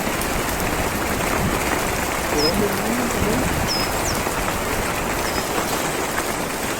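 Rain falls steadily on a family campsite at the El Cedral dam during a night storm, a constant close hiss with faint bird chirps, while a person speaks briefly.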